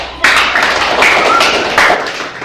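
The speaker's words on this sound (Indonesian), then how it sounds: "Silakan buka mata dan tepuk tangan." A small group claps hands together in a brief burst of irregular, close, fairly loud claps with no talk over them.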